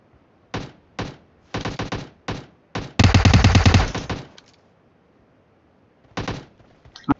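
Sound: gunfire in the video game PUBG

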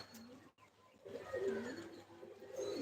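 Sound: pigeons cooing

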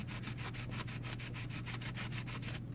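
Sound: sanding with 220 grit sandpaper on airgun

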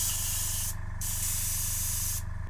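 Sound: airbrush spraying water

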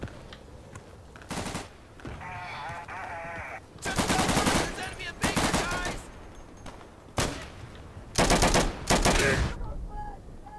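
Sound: gunfire in the video game Day of Infamy

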